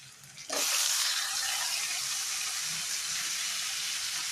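Onions and tomatoes sauté in a pan with a steady, loud sizzle that bursts in after a short quiet start and then holds a dense frying hiss, with no talking, while a Tamil-style cluster bean kuzhambu is cooked.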